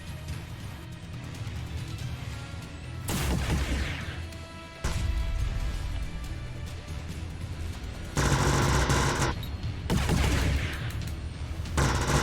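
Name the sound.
CIWS close-in weapon gunfire in Nimbus Infinity video game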